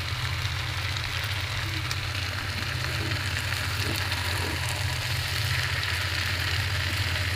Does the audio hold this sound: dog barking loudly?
no